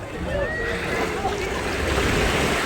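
Ocean waves wash onto Peña Blanca Beach in Aguadilla, Puerto Rico, making a continuous broad hiss of surf blended with wind noise buffeting the microphone.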